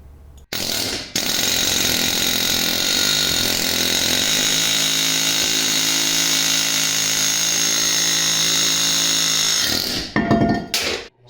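A loud, continuous pneumatic air hammer chisel rattles steadily against a seized metal brake drum on a car for about ten seconds, then cuts off abruptly; no voices.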